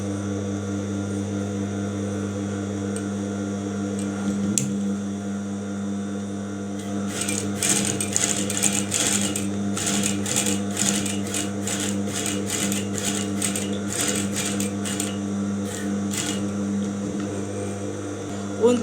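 Sewing machine stitching down a fabric placket. A steady hum runs throughout, and rapid stitching bursts come in from about seven seconds on, close and fairly loud.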